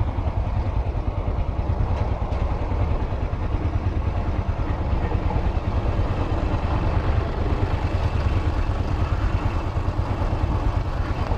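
A Yamaha YBR125 motorcycle engine while riding on a city street, a steady loud drone with constant low rumble and rapid mechanical pulsing throughout, no pauses.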